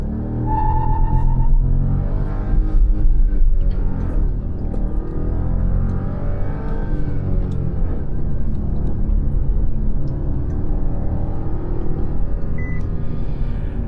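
Renault Duster 1.0 turbo engine pulls away in first gear with traction control off, a loud, close rising drone that climbs in pitch, eases, then rises again, heard from inside the car.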